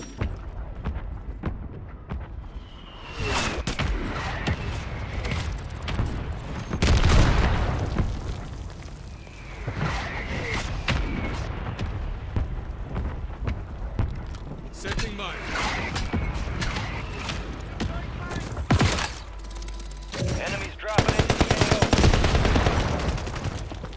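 Artillery fire mission striking in a Call of Duty match, with bursts of gunfire and heavy booming impacts rolling through the mix at several points, loud and close, while voices talk over parts of it.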